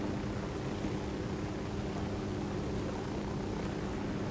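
An unmanned helicopter flies in the video game Ghost Recon Wildlands, its rotor drone a steady, dense whir that fills the whole stretch at an even loudness.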